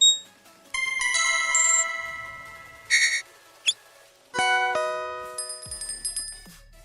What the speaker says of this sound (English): So we've gone with the bell. The little handbell.